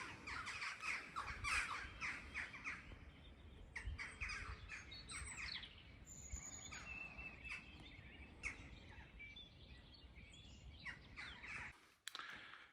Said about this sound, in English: And the blackbirds.